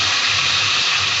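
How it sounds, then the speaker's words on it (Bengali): Pointed gourd (potol) frying in a pan, briefly uncovered: a loud, steady, bright sizzling hiss that runs unbroken with no talk. "মাঝে মাঝে ঢাকা খুলে পটলটাকে এইভাবে ভেজে নিতে হবে"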